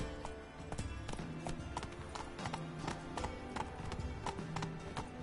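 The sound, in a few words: horse Roach galloping in The Witcher video game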